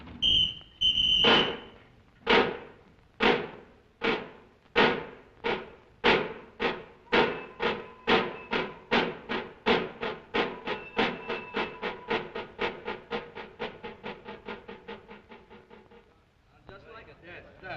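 A voice imitates a steam locomotive pulling away, opening with a whistle-like hoot and then steady chuffing puffs that start slow and evenly spaced, speed up, and fade out.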